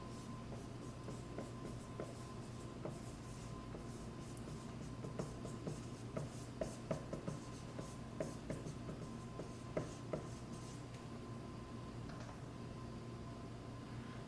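A list is written out by hand, with continuous quiet scratching strokes and small ticks and taps as the writing goes on, close and alone.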